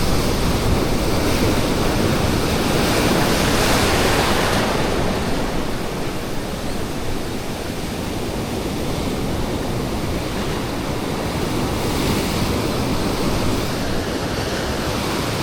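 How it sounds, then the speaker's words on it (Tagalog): Big ocean waves crash and roar continuously, a loud wash of surf with wind buffeting the microphone, no voices. "Yan ang alon malaki."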